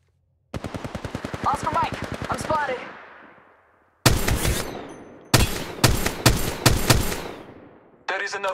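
Rapid automatic gunfire from the Apex Legends video game, fired in several bursts separated by short gaps, each burst a crisp run of loud shots followed by a fading echo.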